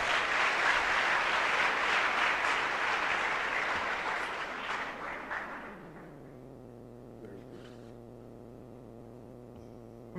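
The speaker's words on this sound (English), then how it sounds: "Let's give them another round of applause." A crowd applauds at a national public speaking competition grand finale, a loud sustained wash of clapping that fades out after about six seconds into a low steady hum.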